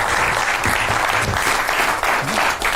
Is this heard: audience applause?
yes